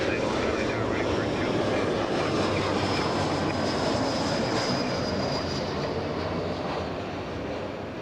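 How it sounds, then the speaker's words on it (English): A jet airliner takes off at Los Angeles International Airport, a loud continuous engine roar with a rising whine. The sound fills the whole stretch and eases slightly toward the end, with faint voices mixed underneath. "And there goes the liftoff."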